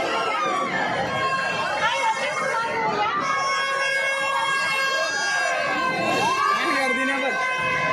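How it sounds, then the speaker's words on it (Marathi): Dense crowd hubbub at a Maha Shivratri temple fair at Khidkaleshwar Mahadev temple, Pimpleshwar, with continuous overlapping chatter, shouts and festival tones filling the whole stretch at steady loudness. "खूपच जास्त गर्दी आहे, काहीच आवाज येत नाही"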